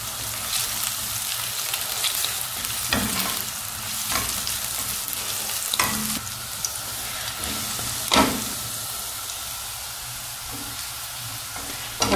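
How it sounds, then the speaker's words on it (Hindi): Garlic fries for chilli paneer, sizzling steadily and close in a hot pan with several sharp stirring scrapes, no talking. "गार्लिक के साथ ही उनको भी फ्राई कर लेंगे ताकि वो क्रंच रहेंगी"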